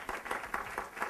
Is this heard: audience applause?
yes